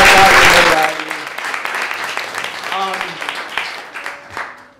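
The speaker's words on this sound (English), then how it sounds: "If we can just have a round of applause," An audience applauds a theater director at a final stage performance: dense clapping, loudest at the start, then thinning and fading over a few seconds while voices talk over it.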